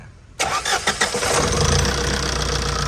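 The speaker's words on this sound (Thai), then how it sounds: "เครื่องติดง่ายแล้วไม่ตันแล้วนะ" A Tata truck's diesel engine cranks briefly and catches after injector repair, then settles into a loud, steady, rumbling idle close by.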